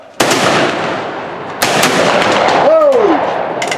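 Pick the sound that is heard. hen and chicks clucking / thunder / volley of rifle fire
volley of rifle fire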